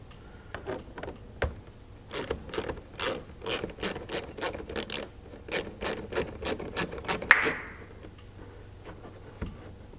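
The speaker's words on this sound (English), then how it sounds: "you'll just need a T30 Torx to remove the 3 screws up here at the front of this liner" T30 Torx ratchet clicking in a rapid run of about fifteen sharp bursts while backing out the front wheel liner screws on a Ford Bronco Sport, close and loud with quiet pauses before and after.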